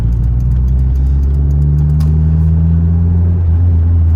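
A turbocharged Mitsubishi 4G93 SOHC engine in an Evo hums steadily with a low rumble and a rising turbo whine, loud and close, without talk.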